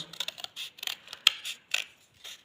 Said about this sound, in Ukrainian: беремо ножиці, вирізаємо з вами